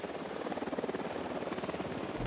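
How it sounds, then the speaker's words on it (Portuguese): Unit helicopter in the Ghost Recon Wildlands video game, a loud close rotor chop with steady rapid blade pulses throughout, ending in a sudden burst of louder noise. "helicóptero da unidade"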